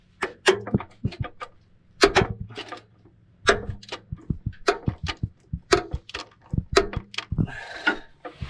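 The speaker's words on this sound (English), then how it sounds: "I bought this ratchet with the sole intent of tightening this one bolt." A hand ratchet clicks close up in short rapid bursts of sharp ticking, pausing between strokes, while a bolt is tightened on a Honda Element.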